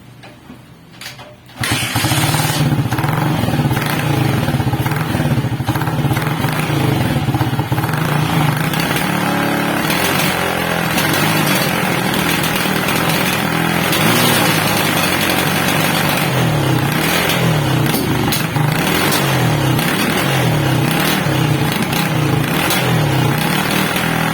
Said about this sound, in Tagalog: Sobrang palyado ng makina.